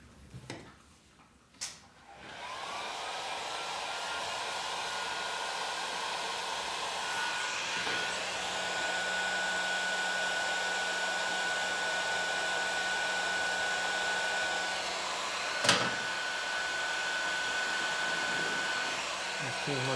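A heat gun shrinks heat-shrink tubing on wiring of a 1983 FXRT shovelhead motorcycle. After a couple of clicks it switches on and blows a loud, steady roar until the end, with one sharp knock midway.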